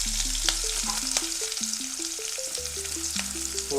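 Onions fry in a pan for Mangalorean prawn sukka, making a steady, bright sizzling hiss throughout, with a simple stepped melody playing underneath and no talking.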